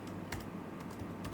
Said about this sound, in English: so my typing is a bit off.